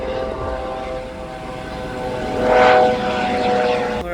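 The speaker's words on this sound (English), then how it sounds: "but look at that helicopter right there." A helicopter flies nearby above a road's end on Montserrat, its droning engine and rotor hum steady and close, swelling louder for a moment as it passes, with no talking.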